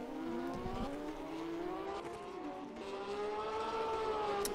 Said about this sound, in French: les voitures ont un moteur arrière, un moteur flat 6, c'est-à-dire un 6 cylindres à plat.